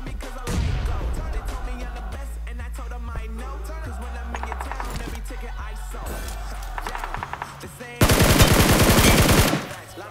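Gunfire in a battle royale mobile game, with bursts of rapid automatic shots over game music and effects, ending in a loud dense volley near the close.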